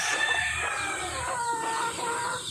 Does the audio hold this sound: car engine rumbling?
no